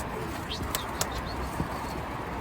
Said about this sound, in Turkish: Uçuyor mu bu kuş? Uçuyor. Ne kadar uçuyor gördüğünüz gibi.